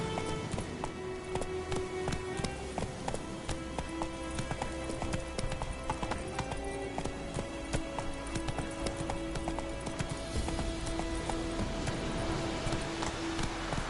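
Roach, the horse in The Witcher, gallops with a steady, rapid clip-clop of hooves that runs throughout, loud and close over a continuous game backdrop of music and ambience.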